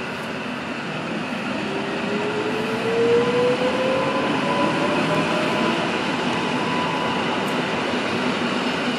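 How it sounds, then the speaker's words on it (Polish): A triple-unit passenger train passing through Łowicz Główny station in Poland, a loud continuous rumble and roar of wheels on rails with a faint rising squeal, close and sustained throughout. "potrójny skład jedzie."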